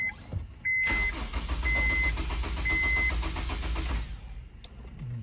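A Honda S2000 with a kill switch fitted is cranked for about three seconds without firing, the starter churning in a rapid steady rhythm under repeating dashboard warning beeps, then stopping; close and fairly loud.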